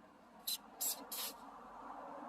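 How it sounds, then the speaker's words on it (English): Silicone spray applied to a cracked rubber door seal comes in three short hissing bursts, close and sharp, over a quiet background. "I'm gonna put some silicone spray"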